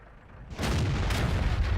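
A tank's main gun fires once in a video game, a sudden loud boom after a quiet start, followed by a broad roaring rumble that carries on to the end.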